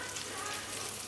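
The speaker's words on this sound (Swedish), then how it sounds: "Nu står jag faktiskt och steker falukorv och makaroner." Falu sausage and macaroni frying in a pan, a steady close hiss and sizzle with faint crackle throughout.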